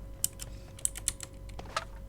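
Quiet computer keyboard typing during PUBG gameplay: a handful of sharp, sparse key clicks spread irregularly over two seconds, close to the microphone but soft, with no talking.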